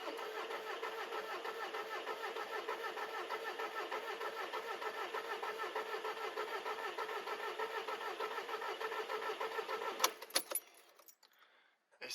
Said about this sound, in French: je vais faire tourner un coup le moteur